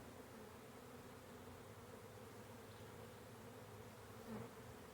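A honey bee swarm fans with its wings, giving a steady, dense buzzing hum with a faint close flyby near the end. The sound is soft and even, and nobody speaks.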